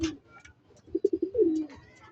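Pigeons cooing close by at a racing derby: several short, rhythmic low coos followed by one longer drawn-out coo.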